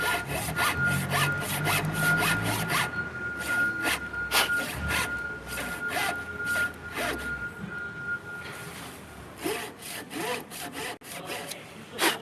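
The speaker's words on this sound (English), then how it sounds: "Maybe it's a Japanese dovetail saw." Hand sawing through wood to cut dovetails with a Japanese dovetail saw, steady rhythmic back-and-forth strokes close by, quick and dense at first, then slower, more spaced strokes with pauses.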